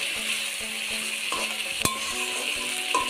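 Chicken coated in spices sizzles in a pan under constant stirring, with a loud frying hiss and repeated light knocks and scrapes of a spoon against the metal.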